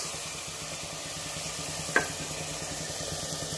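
Tomato puree for chicken masala sautés in a pan, a steady close sizzle with faint stirring scrapes and one sharp clink of a utensil midway, no talking.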